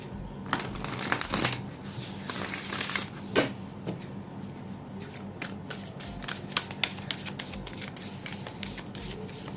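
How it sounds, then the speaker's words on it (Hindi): Oracle cards being shuffled by hand, a close, crisp riffling and flicking that comes in uneven bursts over a quiet room, with brief pauses between handfuls. "what do we get from animal oracle. Let me shuffle this."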